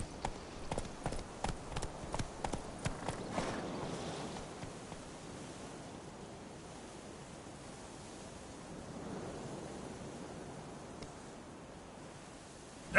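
Geralt's horse Roach in The Witcher 3 trots with a run of distinct hoof clip-clops over the first few seconds, then fades into soft ambient noise and rustling.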